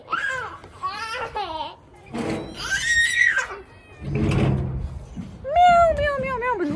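A cat meows repeatedly up close in a home, with several drawn-out, rising and falling cries separated by short pauses, mixed with a voice talking.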